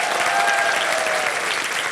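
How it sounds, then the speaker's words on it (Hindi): Loud, dense applause from a studio audience on the Hindi game show Wheel of Fortune, steady and sustained throughout with no talk over it. "तालियां इसके लिए।"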